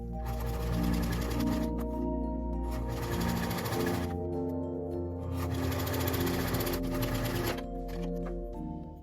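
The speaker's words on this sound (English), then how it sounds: "It's perfectly fine to use a regular sewing machine and the zigzag stitch on all of your seams." A regular sewing machine runs a zigzag stitch along a T-shirt side seam, a close, buzzing mechanical chatter in three bursts, each a few seconds long and separated by short pauses.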